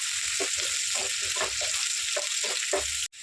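A large onion frying in hot oil, sizzling steadily and close up with soft stirring scrapes throughout, cutting off briefly near the end.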